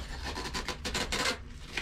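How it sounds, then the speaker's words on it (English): Velcro straps on a travel organizer bag being pulled apart: a rough, rasping tear lasting under two seconds, close and moderately loud with a ripply texture. "Undo the Velcro straps."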